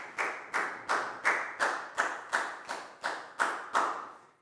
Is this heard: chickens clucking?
no